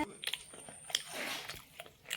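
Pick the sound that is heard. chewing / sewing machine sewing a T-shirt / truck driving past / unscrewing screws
chewing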